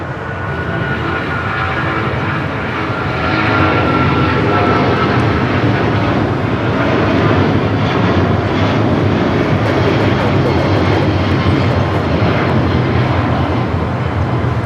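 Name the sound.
American Airlines Boeing 777-200ER taking off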